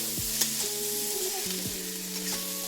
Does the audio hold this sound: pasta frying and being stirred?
yes